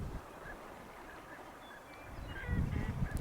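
Ducks and other waterfowl, including pintails, shovelers, mallards and coots, call across a lake in Alberta, with repeated honks and quacks at a distance over steady background noise that swells louder near the end.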